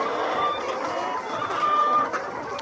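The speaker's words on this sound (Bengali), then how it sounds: "এই মুরগিকে কেবল খাদ্য দেওয়া হলো, কি স্বাচ্ছন্দ্যে খাদ্যগুলো খাচ্ছে" Laying hens on a poultry farm pecking at freshly given feed, a dense steady hubbub of clucks and soft calls from many birds close by, with a faint mechanical whine in the background.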